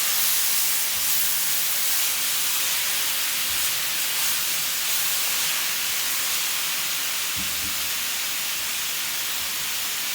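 Ground beef browning in a pan for chili, a steady broad hiss of sizzling fat running throughout with a few soft scraping knocks as the meat is broken up and moved around.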